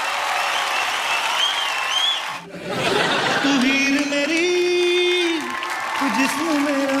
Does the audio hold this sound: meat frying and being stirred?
no